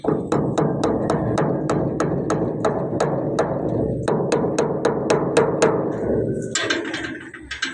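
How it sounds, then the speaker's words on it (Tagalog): Sharp, evenly spaced hammer blows ring out one after another, about two per second, close and metallic, ending with some clattering, while repairing a leaking water tank. "Pupuksin natin ng martilyo."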